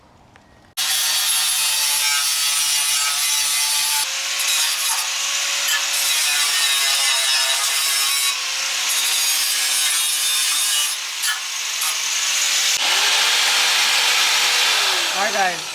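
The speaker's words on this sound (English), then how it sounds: "we're just kind of going by hand and sanding everything" Loud, steady rasping of sandpaper rubbed back and forth by hand on the metal body of a Mazda Miata, continuous and close, with brief shifts in stroke and pressure.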